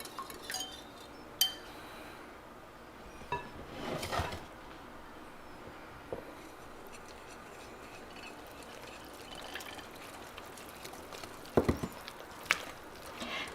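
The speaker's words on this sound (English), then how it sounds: "Now we're going to take our liquid mixture and we're going to add it to our flour mixture." Liquid mixture poured into a bowl of flour mixture for blueberry crumb muffins: a soft, faint pour with a few light clinks of utensils against the bowl, no talking.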